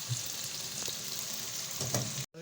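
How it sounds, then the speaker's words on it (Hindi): Onions frying over a medium flame toward golden brown for a Sindhi chicken biryani, giving a steady close sizzle with faint stirring clinks, no voices. "और मीडियम फ्लेम के ऊपर हमने प्याज को गोल्डन ब्राउन करना है।"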